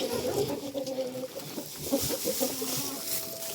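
Hens cluck and murmur nearby in a busy, irregular stream over a rustling farmyard background.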